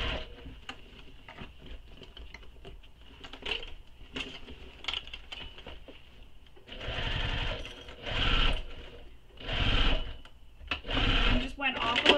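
A sewing machine stitches a tote bag seam in several separate runs of steady whirring, each starting and stopping, with light clicks and fabric handling between bursts and a voice talking at times.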